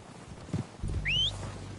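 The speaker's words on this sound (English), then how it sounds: "They're coming down with the horses." Horses approaching in the video game Red Dead Redemption 2, heard as a short snort and a whinny-like squeal with low hoof rumble rising after a quiet start.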